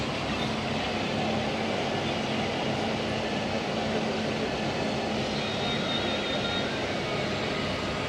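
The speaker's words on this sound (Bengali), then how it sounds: "ট্রেন আমাদের ছাড়লো বোলপুর শান্তিনিকেতন স্টেশন।" The Darjeeling Mail train pulling out of Bolpur Shantiniketan station, a steady loud rumble of wheels and carriage noise heard from inside the coach, continuous and unbroken throughout.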